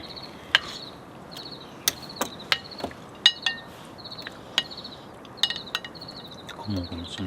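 Crickets chirp in regular pulsing trills on a summer evening outdoors near a mountain hut, steady in the background, while sharp clinks and chopping knocks sound up close and a voice briefly speaks near the end.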